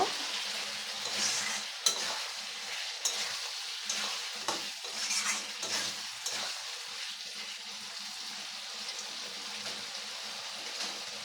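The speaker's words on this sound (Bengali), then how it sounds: "এখন আমার এটা ভাজা হয়ে গেছে কষা এখন আমি জলের জল দিয়ে দিব" Mutton kosha cooks in a pan as water is added, producing a bright hiss and sizzle with repeated stirring scrapes that settles into a softer bubbling fry.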